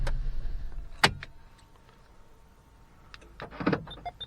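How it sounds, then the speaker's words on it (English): A Vauxhall car locking from a remote key: a sharp mechanical clunk of the door locks, then quiet, then a cluster of fainter clicks and actuator whirs nearby, with no voices. "Doors lock."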